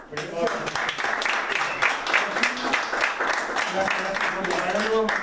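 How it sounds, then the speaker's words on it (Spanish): Small audience applause at a house recital, with steady clapping running throughout and a voice speaking over the clapping. "Un aplauso."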